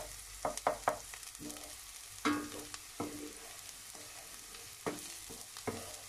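Shallots in oil in a pan, softly sizzling while a utensil scrapes and taps against the pan in irregular strokes, close and quiet with no talking.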